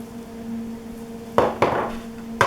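Keto snack mix being stirred with butter and seasoning in a bowl gives a few sharp clinks and scrapes, spaced irregularly after a quiet stretch, with a steady faint hum behind.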